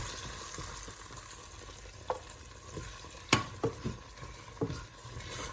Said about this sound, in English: we can add the roasted ingredients to this, and we start stirring this again